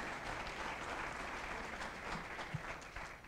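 Steady applause from a large audience at an economic forum luncheon fills the room, a continuous wash of many hands clapping at even loudness with no talk over it.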